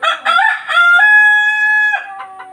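Egyptian Fayoumi chickens cluck briefly and then a rooster crows loudly and close, one long drawn-out crow lasting about a second.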